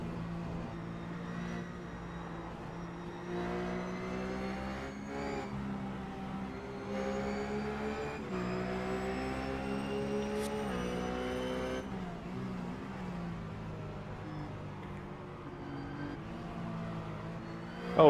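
GT race car engine at Spa during the 24 Hours endurance race, heard from on board as a steady, droning roar with shifting pitch as it climbs and drops through gears, continuous and moderately loud.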